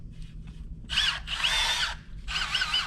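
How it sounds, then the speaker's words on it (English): A hammer drill bores in three bursts on a house addition's siding job, loud and close with a high whining grind, separated by short pauses and a faint ticking before the first run. "we have a real hammer drill instead of that drill hammer drill"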